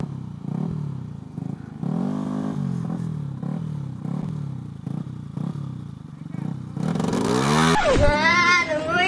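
A Vespa scooter engine revs under throttle in rising, pulsing surges, loud and close, with a person talking over the engine noise.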